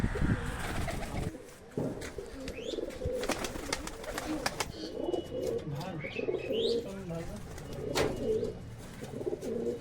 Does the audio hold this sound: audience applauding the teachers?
no